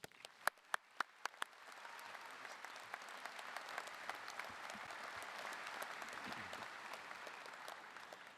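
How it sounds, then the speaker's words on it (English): A large audience at a doctoral and MFA commencement ceremony applauds. A few sharp, separate claps open into steady, sustained clapping that sounds moderately distant and fills the hall. "Please give a huge round of applause for Professor Jay Cummings."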